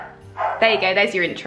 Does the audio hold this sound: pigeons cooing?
no